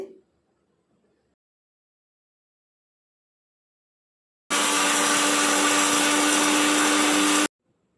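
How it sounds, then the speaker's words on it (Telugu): A mixer grinder powders roasted fenugreek seeds, running loud and steady for about three seconds with a harsh motor whine and rattle, after a long silence. "వీటిని అయితే ఇప్పుడు మిక్సీలో పెట్టేసుకుని పౌడర్ చేసుకోవాలి"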